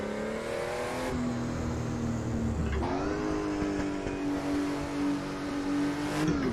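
Simulated Porsche 962 race car in Assetto Corsa at 1967 Silverstone, its engine roaring up through the gears with sharp pitch drops at each shift, loud and close with no talk.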